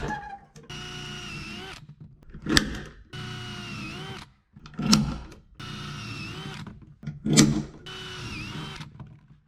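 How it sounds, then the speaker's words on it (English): A power drill boring holes into a car's headliner trim lip, four loud, near bursts of motor whine, each a couple of seconds long and separated by short pauses, with a sharp spike as the bit breaks through. "I've drilled a bunch of holes up in that kind of little kick up lip there"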